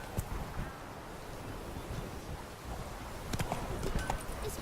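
Roach, Geralt's horse in The Witcher 3, moves along with rhythmic hoof clip-clops over wind noise, the hooves growing a bit louder near the end.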